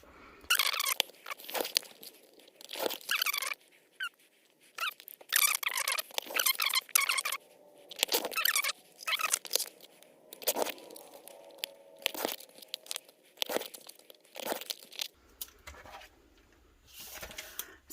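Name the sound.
trimming off the edges of patterned vinyl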